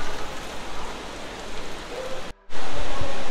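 Devi's Fall waterfall in Pokhara roars as a loud, continuous broadband rush of falling water, broken briefly by a short cut before the roar resumes.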